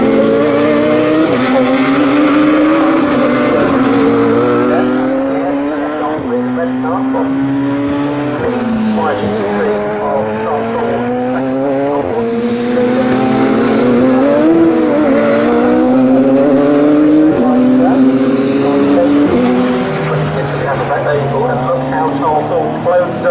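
Racing motorcycles, including an SL3 on wet tyres, lapping the Snetterton circuit in a Bikesports Championship race, with loud engines rising and falling through gear changes as they pass, under continuous race commentary.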